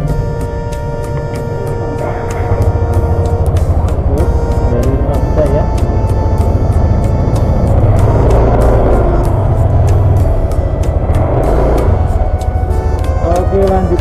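Yamaha Nmax scooter engine running steadily while riding through a market area, a continuous low drone with rising and falling revs, moderately loud, with voices and surrounding traffic mixed in.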